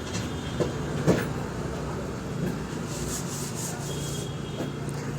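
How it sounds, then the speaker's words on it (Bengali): Spice paste with turmeric being stirred and fried in a pan for a Bengali vegetarian dish, giving a steady scraping, rubbing sound with a few louder knocks, close and continuous. "এবার মশলাটা একটু কষিয়ে নেব আর একটু জল দিয়ে দেব"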